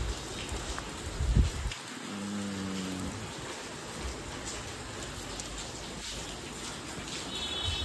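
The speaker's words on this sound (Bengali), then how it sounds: "আর আপাতত বৃষ্টিতে দাঁড়িয়ে রয়েছি, প্রচণ্ড হাওয়া দিচ্ছে।" Steady rain pours down during Cyclone Remal with strong wind, a dense continuous hiss close around, with a brief low thud early on.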